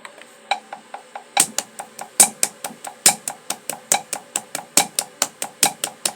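A metronome clicking sixteenth notes: rapid, evenly spaced clicks in a fast steady stream, with occasional louder accented ticks; no voices.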